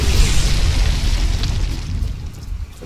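A drone blows up in the video game Rise of the Tomb Raider, a loud, full explosion rumbling throughout and slowly fading, with no talk over it.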